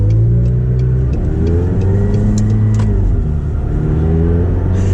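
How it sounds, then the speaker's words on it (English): Loud, close engine drone from inside a McLaren 720S Performance Spider, with rising and falling revs and small mechanical clicks and rattles over the rumble. "You get a lot of mechanical noises here."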